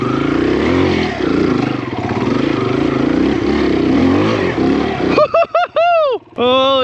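A Kawasaki KLX140RF dirt bike engine drones hard and close while riding solo on an enduro trail, then blips and revs in sharp rising bursts as it hits a jump.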